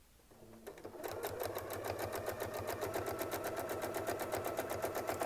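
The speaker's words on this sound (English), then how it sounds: "As we sew, I'm going to be pushing the fabric that way, and I'm going to sew forward." A sewing machine stitches fabric forward, starting after a moment of quiet and then running at a steady, rapid mechanical rhythm, close and alone.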